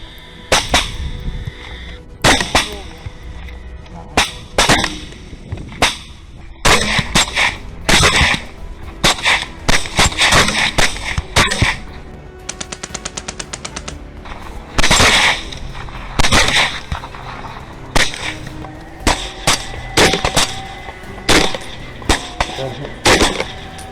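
Hunters shooting wild hogs at night in Texas reed beds, a long run of sharp, loud gunshots, some in quick bursts and some single, with short gaps between volleys.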